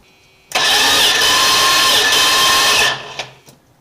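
A 1979 Chrysler 300 engine is cranked, catches and roars loudly for about two seconds before cutting off abruptly. A few faint knocks follow in the quiet.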